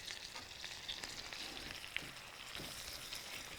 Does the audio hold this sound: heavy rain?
no